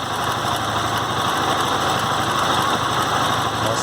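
A Yamaha Fazer 250 motorcycle engine runs with a misfire and mechanical noise, a steady close buzzing idle with a faint uneven pulse throughout and no talk.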